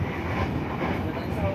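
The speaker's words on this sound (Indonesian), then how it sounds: "Nah ini kereta New Generation modifikasi yang saya naiki ini tuh keluaran terbaru dari Balai Desa Manggarai." A Pasundan economy-class New Generation passenger train runs on its rails, a steady loud rumble with soft clatter heard from inside the carriage, without pauses.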